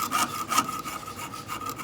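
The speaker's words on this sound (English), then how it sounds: "As I'm sawing, I'm moving it and turning it, but I have to be moving the saw blade straight up and down and in a sawing motion" A hand saw cuts through wood along a marked line in steady back-and-forth strokes, the rasping pulses close, loud and evenly spaced, with no talking.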